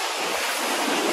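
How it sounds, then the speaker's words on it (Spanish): Ocean waves and surf washing in a broad, steady roar heard from a cruise ship at sea on the way to the Bahamas, with wind noise mixed in and no talking. "Miren el océano."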